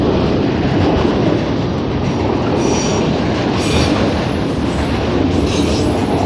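A CN manifest freight train passes very close by, its wagons roaring and rattling loudly and steadily with clacking wheels and occasional thin high squeals of wheels on rail.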